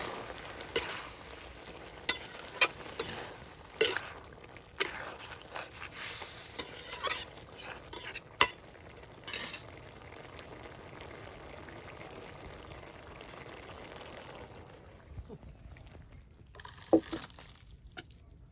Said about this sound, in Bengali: এবার আমি ঢেলে নেব।